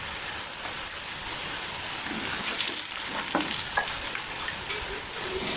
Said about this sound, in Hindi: ये देखें माशाल्लाह मसाला हमारा फ्राई हो गया है, प्याज भून गया है